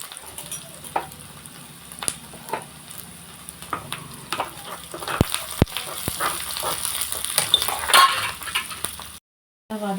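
Moong dal sautéed and stirred in a pan, with soft sizzling, scattered clinks and scrapes of the spoon against the metal, close and without talk, ending in a brief silence.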